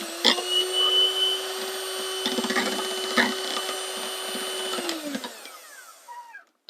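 An electric hand mixer with beaters whirs at a steady high pitch while mixing rum chocolate batter, then winds down and stops near the end, running alone without talk.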